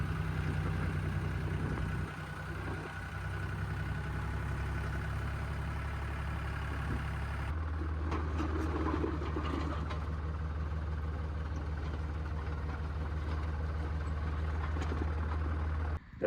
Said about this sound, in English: This is the utility tractor here for just around the yard.